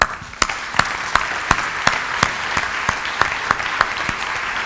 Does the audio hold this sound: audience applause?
yes